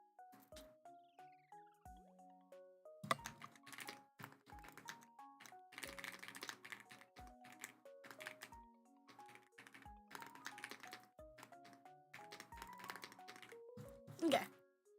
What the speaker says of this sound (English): I have an actual keyboard to type on too as well